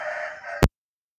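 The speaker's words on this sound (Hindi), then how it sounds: "ये देखें, अजाने दे रहे हैं मुर्गे।" A rooster on a small urban home farm gives a loud, close crow that cuts off abruptly, with no talking.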